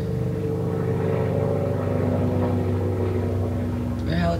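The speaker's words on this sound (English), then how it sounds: "There's a plane going over." An airplane passes overhead, a steady low droning rumble that holds level throughout at moderate loudness, with a brief brighter rise near the end.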